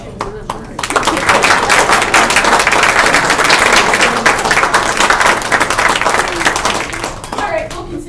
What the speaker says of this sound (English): would you stand up and let us give you a round of applause?